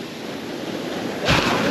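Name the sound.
strong ocean waves at the beach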